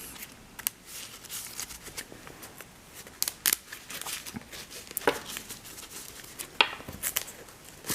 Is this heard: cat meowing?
no